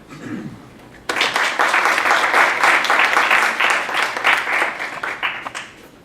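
Warm applause from a seminar audience welcoming a speaker, starting abruptly after a short quiet moment and holding as steady, dense clapping for about five seconds before thinning slightly.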